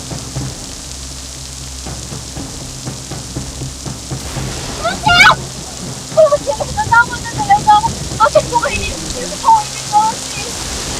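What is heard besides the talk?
rain pouring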